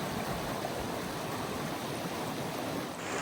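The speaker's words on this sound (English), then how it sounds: "This trail goes across the creek." A mountain creek crossing a hiking trail rushes steadily at close range, a dense, unbroken watery hiss with no pauses and no voices.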